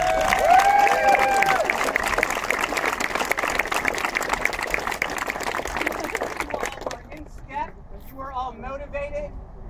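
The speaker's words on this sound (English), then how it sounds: "Give yourselves a round of applause." Cadets clap and cheer together at the close of a bootcamp end-of-week picnic outdoors, dense applause filling the first several seconds under a speaking voice before fading into quieter talk.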